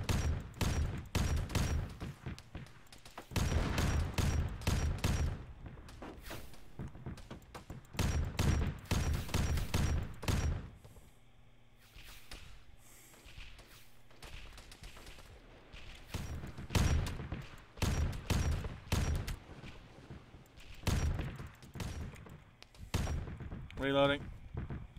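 Sustained gunfire in a war video game, dense bursts of rapid shots and heavy booms coming in waves, pausing briefly before resuming, loud and close.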